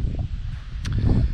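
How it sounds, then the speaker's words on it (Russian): Wind blowing outdoors across open countryside near a village house and plot, a steady low rumble and buffeting on the microphone with a faint rustle throughout. "Жалко, тут ветер сейчас такой."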